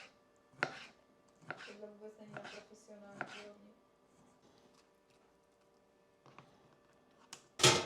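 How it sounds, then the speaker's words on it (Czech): A knife chopping potatoes for fries on a cutting board in a home kitchen, a handful of sharp, irregular chops with short pauses between them and a louder knock at the end. "budu dát rychlo kurz krájení"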